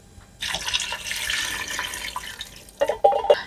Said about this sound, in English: Next, I'm going to add my beef broth.